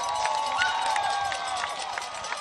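Football stadium crowd roaring and cheering continuously after a Bobcats high school win in an Enterprise vs. Paradise night game, a dense, sustained wall of noise with scattered whistles and shouts.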